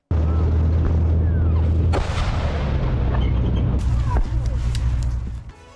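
War footage of advancing Ukrainian soldiers carries loud, dense gunfire and heavy booms in a continuous roar, with sharp cracks standing out near the middle and end before the sound drops away.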